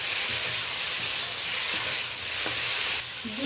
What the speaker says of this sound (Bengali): ফোড়নের সাথে আমি চিংড়ি মাছটা দিয়ে দিচ্ছি।